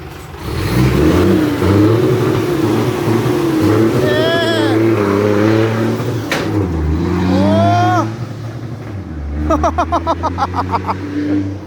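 An S700 12-wheeler truck's engine revs hard and repeatedly, rising and falling in long surges, up close and loud, with a rapid pulsing burst near the end and people talking in the background.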